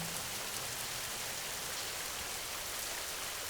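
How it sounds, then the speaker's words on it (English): Gentle, unending rain falls in a steady, even hiss, soft and uniform throughout with no voices or other sounds. "The rain continues its loop, gentle and unending"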